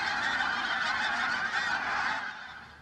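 A large flock of geese honks continuously in a dense, overlapping chorus, loud and close before tapering off slightly at the end.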